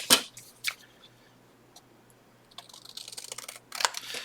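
Scissors snip through lace trim for journal decoration: a few sharp, close clicks near the start and end, with a quiet pause between and no talking.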